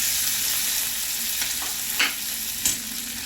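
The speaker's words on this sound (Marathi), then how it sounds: "तेल गरम झाले ह्याच्यामध्ये मी राई टाकते" Mustard seeds, garlic paste, chillies, coriander and curry leaves fry in hot oil for vada pav filling, making a bright continuous sizzle with a few sharp crackles and spoon scrapes near the end, close and without speech.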